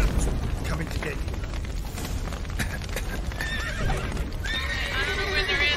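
Horses in the Witcher 3 game whinny loudly near the end amid hoofbeats and a dense roar of fire and collapsing debris, with someone talking over it.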